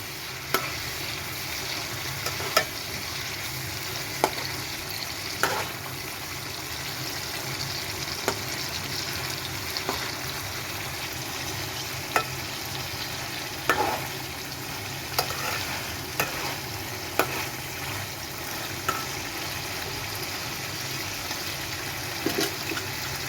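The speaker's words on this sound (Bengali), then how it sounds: "মাছগুলো দিয়ে দিব। তারপর মাছগুলো দিয়ে একটু নাড়াচাড়া করে" Fish stirred into fried spice paste in a pan gives a steady sizzle with scattered scraping clicks from the spoon, close and continuous, no talk.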